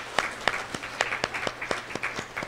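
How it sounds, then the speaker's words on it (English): Audience applause after a children's song at a school Arbor Day event, with distinct, regularly spaced sharp claps standing out over a softer bed of clapping from the crowd. "Get another round of applause, please."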